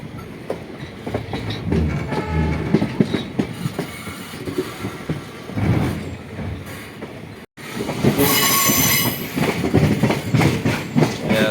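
A train rumbles steadily with heavy rolling noise and clattering wheels, then high metallic squeals rise as it slows entering Kamakhya station.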